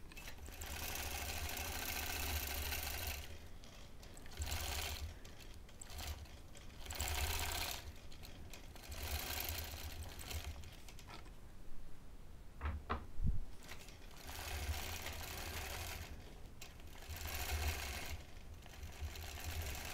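A quilting machine with channel locks stitching a small mini quilt, a close, fast, steady mechanical chatter in long runs, briefly stopping and clicking near the middle before resuming.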